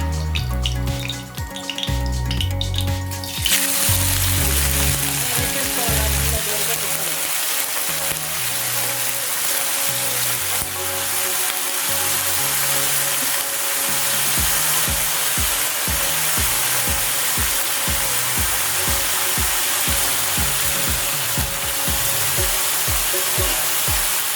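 Washed, squeezed ridge gourd peels sizzle steadily in hot oil, a loud continuous hiss that starts after a few seconds, with soft repeated thumps and stirring knocks underneath.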